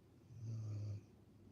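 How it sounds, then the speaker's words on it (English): A sleeping dog snores once, a low rumbling drawn-out breath lasting about half a second, close and moderately loud over a soft background hiss. "That's Lola snoring."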